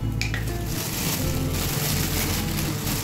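Broken cashews fry with rice in a hot pan, giving a loud, constant, close sizzle that fills the whole stretch with a steady crackling hiss.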